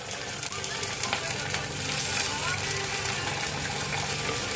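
Onion and green chilli frying in hot oil in a clay pot for Tamil fish curry, a steady close sizzle that holds throughout with faint clatter and no clear talk over it.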